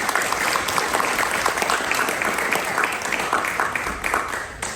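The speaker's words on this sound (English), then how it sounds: "I'd like to give her a round of applause" Audience applause at a live faculty music performance in a small studio, dense steady clapping from a crowd that holds throughout and begins tapering at the very end.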